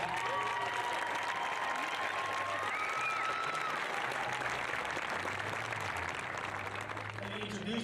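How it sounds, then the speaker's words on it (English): An outdoor crowd applauds the graduating class of 2016 at a school promotion ceremony, steady moderate clapping throughout with voices and tonal sounds underneath. "we'll give one more round of applause to the class of 2016"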